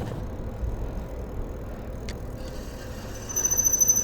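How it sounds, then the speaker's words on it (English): Front brakes on a Walmart Ozark Trail G.1 Explorer gravel bike give a thin high squeal that rises and pulses near the end, heard over a low rolling rumble of the ride. "Here's the braking noise."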